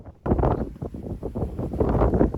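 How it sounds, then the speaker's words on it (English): Gusty coastal wind in Cornwall buffets the microphone in loud, uneven rumbling bursts that swell and fade, with no voices. "So enjoy the sounds of the wind"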